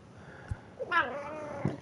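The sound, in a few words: cat meowing in the background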